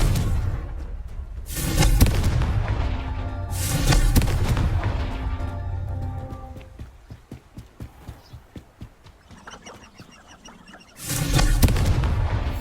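Fire spell blasts in the video game Hogwarts Legacy boom out in heavy bursts, two at the start and another near the end, with lighter tapping game sounds in the quieter middle stretch.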